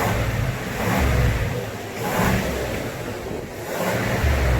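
A Chevy Silverado 1500 with the 6.2-litre LS V8 and stock exhaust revs three times in slow succession, each deep swell rising and falling, loud and close with no talking.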